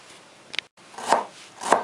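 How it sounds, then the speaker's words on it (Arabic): Knife chopping garlic and ginger together on a cutting board, three distinct close chops spaced about half a second apart. "هنفرم الثوم والجنزبيل مع بعض دلوقتي"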